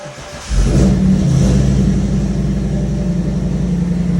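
A BMW X5 with the 4.8-liter V8 fires up from cold, the engine catching abruptly and settling into a loud, steady, rumbling idle with a brief rev flare early on.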